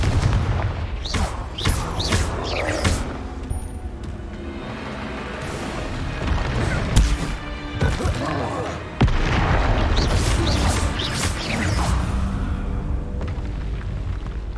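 Confringo fire spell blasts in Hogwarts Legacy combat, loud booming explosions and bursts over a busy battle soundscape, with a voice calling out spell names between the hits.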